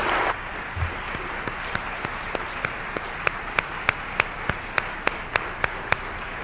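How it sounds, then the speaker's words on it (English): Audience applause at a preliminary mayoral candidates' forum in Salem: a brief burst of clapping at the start, then a thinning patter of isolated claps spaced across several seconds, fairly faint in a room with no talk. "Let's give them all a round of applause."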